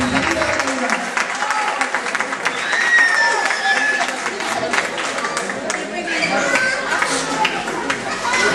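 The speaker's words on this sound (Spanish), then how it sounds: "Un fuerte aplauso para la ganadora." An audience at a Christmas program contest applauds the winning girl with dense, lively clapping and cheering, while a voice speaks over the crowd noise.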